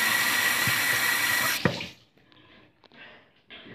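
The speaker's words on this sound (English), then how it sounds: "Probably gonna wash my hands." Running water from a sink tap splashes loudly and steadily over hands being washed for about a second and a half, then shuts off abruptly, leaving a few faint handling sounds.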